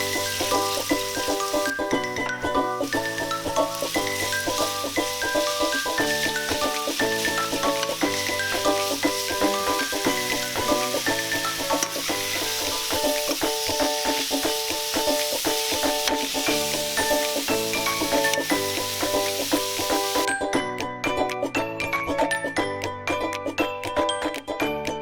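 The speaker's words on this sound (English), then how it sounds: "Pour the chicken mixture into the pan and mix well as it's cooking." A chicken crepe mixture sizzles in a hot oiled frying pan while being stirred, a soft, steady frying hiss partly masked by tonal background music for the whole stretch.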